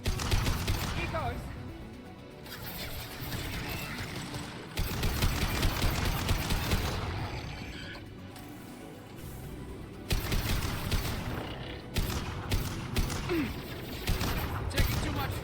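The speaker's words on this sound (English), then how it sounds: "Taking too much fire." Rapid bursts of gunfire crackle through a sci-fi video game firefight during a squad mission, dense and continuous with louder volleys, while players talk over the shooting.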